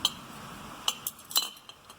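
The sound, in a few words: little butter knives clinking as handled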